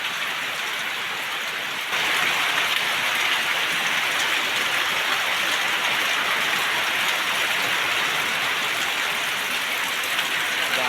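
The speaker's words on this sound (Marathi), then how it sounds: "आता पाऊस बघा काय सुरुवात झाली आहे जोरात गावी आहे इकडे" Heavy rain pouring down in a Konkan village, a dense, steady hiss of falling water that grows slightly louder after two seconds and continues without a break.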